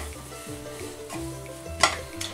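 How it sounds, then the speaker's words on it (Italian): Dough for carnival tortelli being stirred in a non-stick pot, heard as a steady series of soft scraping strokes with a brighter clink of utensil against the pot near the end. "mescolate qualche minuto io uso una pentola antiaderente"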